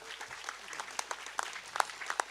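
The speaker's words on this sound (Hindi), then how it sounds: "अभी ये लोग ताली बजा रहे हैं ना" An audience at a religious discourse gathering claps, giving a moderately loud patter of scattered, uneven hand claps with a few sharper individual claps standing out.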